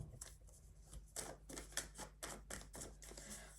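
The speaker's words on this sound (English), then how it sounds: "give this a last shuffle." Tarot cards being given a last shuffle during a reading, a quick series of crisp riffling and slapping bursts close to the microphone, with a steady low hum underneath and no talk.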